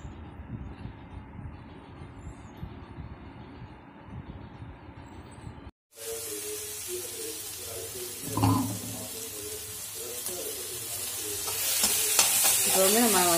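Cloves and cinnamon sizzle in hot oil in a pan for paneer butter masala gravy, a steady close frying hiss that grows louder and brighter in the second half after a brief drop to silence.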